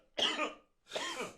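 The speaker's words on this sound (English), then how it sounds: "Just got one little coffee cough." Two separate coughs after drinking coffee, close and fairly loud, with a short silent gap between them.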